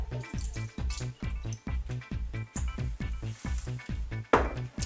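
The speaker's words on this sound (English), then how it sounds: "So I put a little bit of water first, not all of it, just a little bit." Water is poured into a food processor while making a veggie pâté, heard as a close series of evenly spaced, hollow watery glugs and drips, with one sharper splash near the end.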